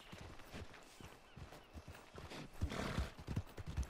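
Horse hooves clopping in Red Dead Redemption 2, a run of low thuds growing heavier and closer toward the end, with a possible whinny amid faint background game ambience.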